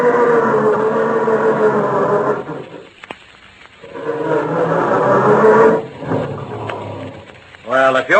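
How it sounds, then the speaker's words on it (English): Car engine being cranked on a frosty November morning, a slow, heavy grinding starter churning in long loud bursts with a pause between, near and unaccompanied by talk. "how does your motor sound when you try to start it on these frosty November mornings?"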